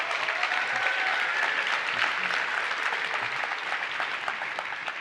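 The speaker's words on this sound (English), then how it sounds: "please join me with a nice round of applause for Alex Simons" An audience at a tech presentation on Azure AD pass-through authentication applauds Alex Simons, director of Azure Active Directory product management, with a steady, even wash of many hands clapping that holds throughout.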